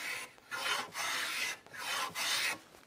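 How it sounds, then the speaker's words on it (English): A hand plane shaves wood on a tenon for a housed mortise and tenon joint in several rasping strokes, each a loud, close, breathy swish separated by short pauses. "do a little bit of hand planing too here."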